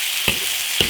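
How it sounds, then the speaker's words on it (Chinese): Beef stir-frying in oil with Sichuan peppercorns and ginger in an iron wok, a steady close sizzle with two sharp bursts of stirring and scraping. "起锅烧油，花椒、生姜，加牛肉煸炒， 把牛肉的水分炒干。"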